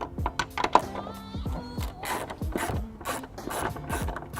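Small 10mm ratchet turning the tail light nut on a 2017 BMW X1, a series of close, quick clicking bursts with light rubbing and handling noise between them, no talking.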